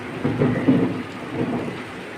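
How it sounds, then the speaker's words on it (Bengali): Heavy rain pours down steadily with rumbling thunder swelling in the middle, a close, fairly loud storm with no voices. "অনেক জোরে বৃষ্টি নামছে বন্ধুরা কি বলবো মাশাল্লাহ বৃষ্টি দেখে তো একদম আনন্দে খুব ভরে গেল এত বৃষ্টি নামছে সাথে আবার বজ্রপাতও হয়েছে"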